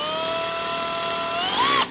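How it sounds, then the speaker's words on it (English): An IBELL brushless cordless drill runs on its low setting into a wall, giving a steady whining motor tone that climbs in pitch near the end before cutting off abruptly. "Okay, so I'm just going to start drilling."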